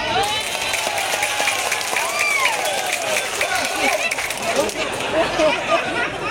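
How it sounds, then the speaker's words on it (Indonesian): An outdoor political rally crowd in Malaka Timur claps, moderately loud and steady, under a layer of crowd chatter and overlapping voices. "Tepuk tangan."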